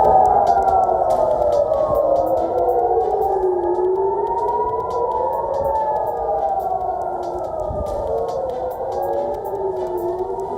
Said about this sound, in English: Air raid sirens sounded in Jerusalem after the Defense Ministry declared a state of emergency.